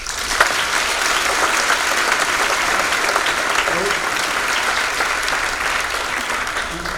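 A lecture audience at a climate change talk in Clermont-Ferrand breaks into loud, sustained applause, a dense even wash of many hands clapping that holds steady throughout, with faint voices beneath.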